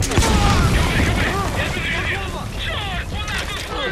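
A rocket explosion from the video game Metal Gear Solid V: The Phantom Pain booms loudly at the start, and dense rumbling game-battle noise and a speaking voice continue throughout.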